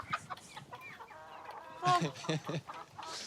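Chickens cluck and squawk nearby in a short, busy stretch, with faint voices mixed into the farmyard noise.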